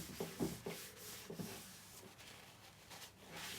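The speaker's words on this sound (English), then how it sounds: "I'm just making sure I'm really rubbing it in." Paint Couture glaze rubbed by hand into sanded wood, giving soft, irregular scuffing strokes close by, a few louder swipes early and then a quieter, continuous rubbing.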